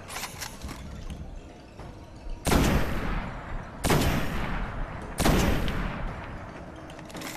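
Bursts of heavy gunfire from shooting hobgoblins in the video game Destiny, with three loud volleys over steady firing and combat noise.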